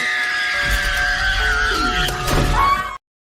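A horror-themed scream sound effect opening a horror channel intro, a loud sustained shriek with sweeping tones and a crashing burst near the end before cutting off abruptly.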